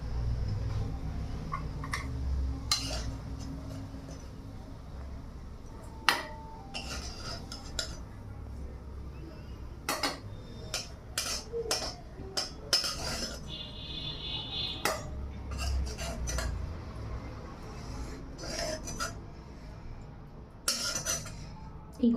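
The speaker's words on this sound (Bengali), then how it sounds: "আলু ভাজাটা এই বাটিটার মধ্যে ঢেলে নেবো।" Freshly fried potatoes tipped from a kadai into a bowl, heard as scattered metal clinks and scraping taps of utensil on cookware, close and fairly quiet over a low background hum.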